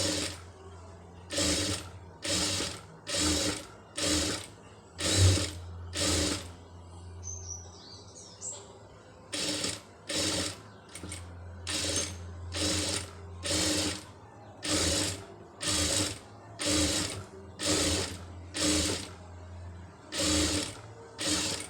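A sewing machine stitches a tailoring seam in repeated short bursts of rapid mechanical whirring separated by brief pauses, close and clear, with a low hum beneath and faint chirps in the background.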